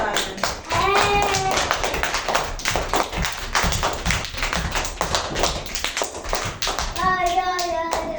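Children clap rapidly for guests dressed as desert geese, a dense patter of small hands with brief bursts of children's voices near the start and end.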